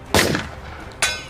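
Two sharp gunshots ring out about a second apart, the first fired at police and followed by a short echoing tail, in a tense action scene with no talk during the shots.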